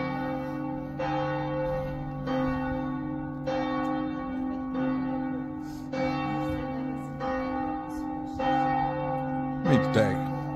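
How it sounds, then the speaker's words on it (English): Church bells in Slovenia ring at midday, struck repeatedly at roughly one-second intervals with long, overlapping humming tones that sustain throughout, loud and steady, with a brief sharper sound near the end. "Midday. The bells saying goodbye."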